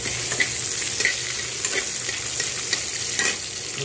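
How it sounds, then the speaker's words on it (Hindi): Chopped garlic frying in a pan for a spiced green banana stew, crackling and sizzling continuously with small irregular pops, close and steady, with no voices. "लहसुन पहले भूनना"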